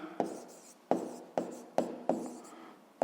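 A pen writes an answer by hand on paper, five or six sharp scratchy strokes at a steady rhythm, each fading quickly, close and clear with no talk.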